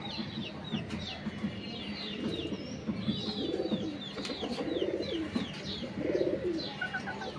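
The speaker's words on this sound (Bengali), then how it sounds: "এটা একটা মাদি কবুতর," Inside a pigeon loft, a female pigeon coos in soft repeated rolling phrases, with several coos rising and falling over a faint background of chirps and clucking fowl.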